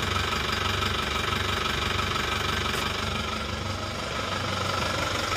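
Isuzu Panther LS automatic diesel engine idling steadily with stock nozzles refitted, a close, even mechanical rumble with a knocking clatter running throughout and no talk.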